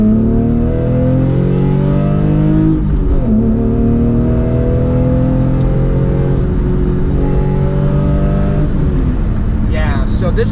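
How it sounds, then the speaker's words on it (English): Lexus IS300 wagon swapped to a manual transmission pulls hard on a highway, its engine note climbing in steady loud revs, dropping at a gear change near the middle and rising again, with road rumble throughout. "We're going to do a little pull on the highway, snow mode off."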